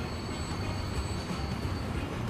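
A departing train in the Transport Fever railway game, rendered as a steady broadband rumble with a faint high whine, continuous and fairly loud with no talking.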